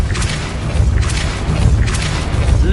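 A Depulso force spell cast in the Hogwarts Legacy video game: repeated loud whooshing blasts with booming low thumps, about three bursts spaced roughly a second apart, close and heavy.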